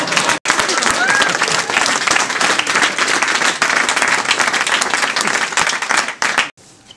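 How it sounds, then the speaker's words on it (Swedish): A crowd at a rap battle event breaks into loud, dense applause and cheering that holds steady for several seconds before cutting off near the end. "applåd"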